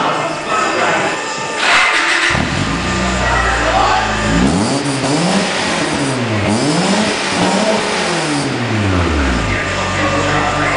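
A Honda Prelude fitted with a Powerlow exhaust revs loudly and repeatedly, the engine note sweeping up and down in several close, throaty pulls with a hollow exhaust rasp.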